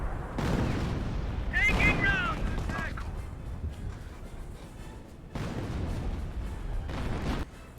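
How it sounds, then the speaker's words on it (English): A creeping artillery barrage in the strategy game Company of Heroes 1 rumbles and booms in long, dense waves of explosions, with a commentator talking over the early part. "here comes a creeping Infantry barrage"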